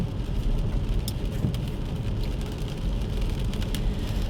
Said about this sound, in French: vous entendez peut-être la voiture